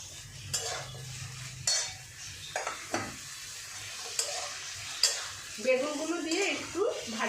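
Eggplant pieces tipped into a frying pan where small fish are cooking, giving several sharp clatters and scrapes over a steady sizzle, near and fairly quiet, with brief voice sounds toward the end.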